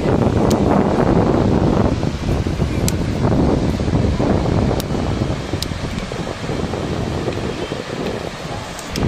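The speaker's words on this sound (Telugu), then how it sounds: "వాటర్ ఫాల్ అయితే చూడండి ఎట్లా అని చెప్పేసి మస్తు ఉన్నది వాటర్ ఫాల్ అయితే. సౌండ్ కూడా మస్తు వినిపిస్తుంది." The Ethipothala waterfall at Nagarjuna Sagar roars as a loud, steady broadband rush of falling water, heavy and constant, with wind buffeting the microphone and no one talking.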